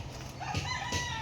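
Chicken sounds out in the open, a couple of short calls rising over steady background noise, fairly close.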